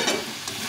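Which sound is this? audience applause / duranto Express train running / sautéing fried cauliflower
sautéing fried cauliflower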